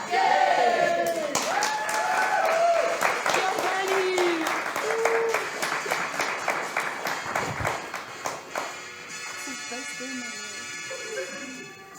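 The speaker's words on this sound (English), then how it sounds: "Let's hear another round of applause" Loud applause from an audience, a dense wash of clapping that swells and then fades, with a few voices and cheers mixed in.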